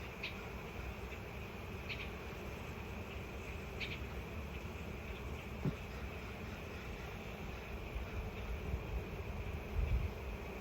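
Honeybees fan at the hive entrance with a steady, low insect hum that persists the whole time, joined by a few faint buzzing passes, heard outdoors without speech.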